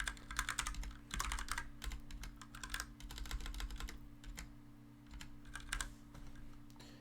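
Fingers type steadily on a computer keyboard in quick bursts of soft clicks separated by short pauses, close and fairly quiet over a faint steady hum, with no talking.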